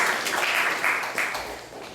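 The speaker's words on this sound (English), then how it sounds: "Let's give a round of applause for her also" Temple audience at an ISKCON Sunday class applauding, a moderate, steady round of clapping heard slightly distant, fading a little by the end.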